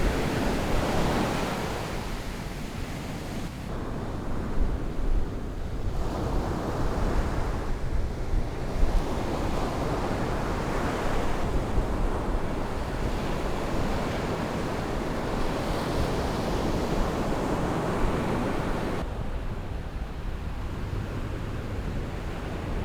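Ocean waves roll onto a beach in a steady, rising and falling wash of surf, with wind buffeting the microphone throughout and no voices.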